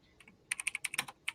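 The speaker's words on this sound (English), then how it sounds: "Just typing away on that computer." Rapid, crisp keystrokes on a computer keyboard, a close burst of about a dozen clicks after a couple of isolated taps.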